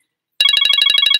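A phone ringtone cuts in after a brief silence: a rapid, loud, near electronic trill of evenly pulsed beeps lasting just under a second, alone.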